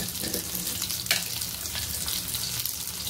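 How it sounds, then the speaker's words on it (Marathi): Ridge gourd pieces sauté in hot oil with a steady, close sizzle and hiss, broken by an occasional stirring scrape. "अर्धा ते 1 मिनिट छान अशा तेलामध्ये व्यवस्थित परतून घ्यायचं आहे"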